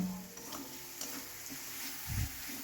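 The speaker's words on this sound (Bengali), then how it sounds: "ভালো করে লাল লাল করে ভেজে নিচ্ছি" Potato pieces frying in oil in a pan for a Bengali fish and cauliflower curry, with a steady soft sizzle and occasional stirring scrapes, one louder stir near the end, no talking.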